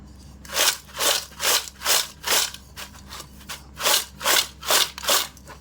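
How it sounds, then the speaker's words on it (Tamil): Crispy fried brinjal pakoda is crunched close up in about ten loud, evenly spaced bursts of crackling, with a short pause midway and no talking. "இப்போ நான் சவுண்டை மட்டும் பாருங்கள், அது எவ்வளோ கிறிஸ்பியாக இருக்குதுன்னு"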